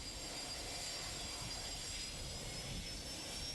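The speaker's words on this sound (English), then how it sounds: "Let's take a look at a typical departure on a multi-engine aircraft." Engines of a multi-engine airplane idle steadily right after start, before taxi, making a constant broadband roar with a faint high whine, loud and unbroken throughout with no talk.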